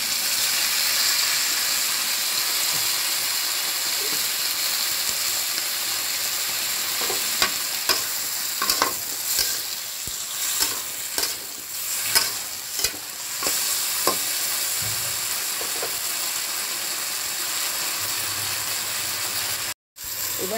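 Potato and eggplant frying in oil in a covered pan after a splash of water, a steady close sizzle and hiss with occasional stirring scrapes and clatters in the middle.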